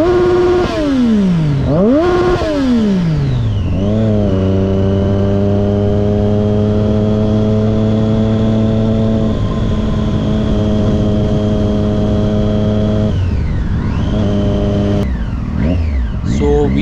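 Loud Triumph Daytona motorcycle engine revving hard and climbing through several gears, each upshift marked by a brief drop in pitch before a long sustained high-revving pull, then easing off near the end.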